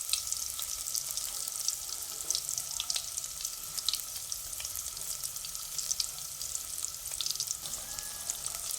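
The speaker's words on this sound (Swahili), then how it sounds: "unavikaanga vitunguu hadi vitakavyokuwa rangi ya brown" Onions frying in oil in a pan: a steady, close, bright sizzle with crackling pops that runs unbroken throughout, with no talking.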